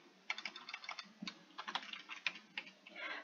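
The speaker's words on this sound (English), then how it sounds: "we're going to type in" Quick, close keystrokes on a computer keyboard tap out information in irregular bursts, crisp clicks in a quiet room with no speech.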